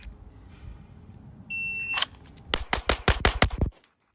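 Six sharp handgun shots ring out in a fast drill string with a red dot optic, cracking close and loud in quick succession, preceded by a shot timer's beep and low background rumble.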